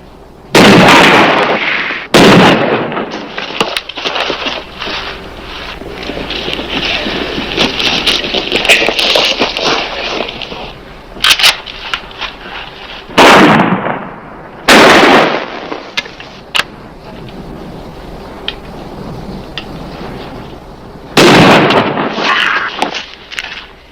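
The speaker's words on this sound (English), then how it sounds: "Shotgun!" Loud shotgun blasts in a Western gunfight, several sharp booming shots scattered irregularly through a tense scene with background rumble between them.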